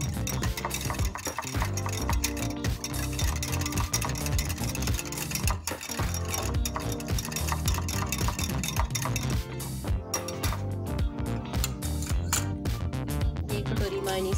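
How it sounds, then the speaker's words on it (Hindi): A spoon stirs yogurt in a bowl until smooth while shawarma sauce is being made, giving steady scraping and clinking that runs throughout with no talk. "दही को अच्छी तरह मिक्स करेंगे"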